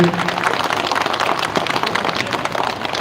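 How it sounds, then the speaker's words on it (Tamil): A congregation at the flag-lowering festival of St. Anthony's shrine in Marambadi applauds together, a dense continuous wash of many hands clapping in a large space, steady in loudness from start to finish. "எல்லாம் கைத்தட்டுங்க எல்லாரும் சேர்ந்து"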